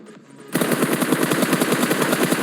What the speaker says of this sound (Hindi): भाई सामने बहुत तगड़ी फायरिंग चल रही थी